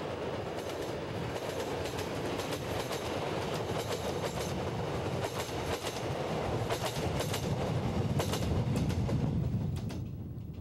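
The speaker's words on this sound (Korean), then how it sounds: "강원도 태백으로 향하는 기차에 몸을 실은" A train rolls steadily toward Taebaek in Gangwon Province, South Korea, its continuous loud rumble overlaid with repeated rhythmic wheel clicks on the rails throughout, with no voices.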